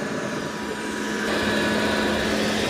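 A Dreame L20 Ultra and X30 Ultra robot vacuum dock runs a steady mechanical whir while washing the mop pads, continuous and fairly loud, swelling slightly partway through with no voices.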